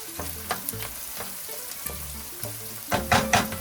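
Onions sizzle in a pan for pasta e piselli, a close, steady fry punctuated by several scraping stirs, with louder bursts of crackle near the end.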